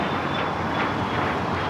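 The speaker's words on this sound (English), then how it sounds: "It's Embraer Legacy 500." An Embraer Legacy 500 business jet at Los Angeles International Airport gives a steady, dense engine roar with a thin high whine, continuous and fairly close, with no talk.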